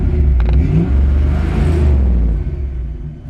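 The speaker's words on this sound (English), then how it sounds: "Amazing sounding engine." A 1951 Ford F1 pickup truck's engine revs up close, giving a loud, steady rumbling roar that eases off toward the end.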